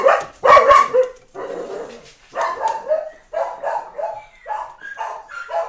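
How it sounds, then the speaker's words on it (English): Several dogs bark indoors, loud and close, in repeated bursts of sharp barks and yips with short pauses between them, no voices over them. "Sorry about the dogs."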